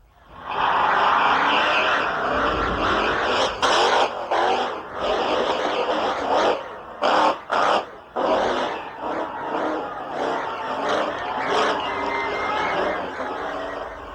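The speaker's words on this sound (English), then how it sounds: "Believe it or not, that's the first time I've ever crushed cars with 48." Monster truck number 48 crushing a row of cars at an arena show, a loud sustained engine roar broken by sharp metallic crunches and bangs, with crowd noise behind.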